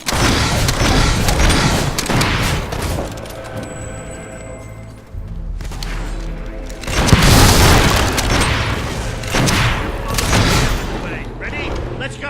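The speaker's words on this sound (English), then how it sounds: "We need to take care of that mortar." Heavy booming mortar blasts and crashing impacts in a battle in the video game Fable 3, loud and repeated with rumbling tails, mixed with game noise and voices.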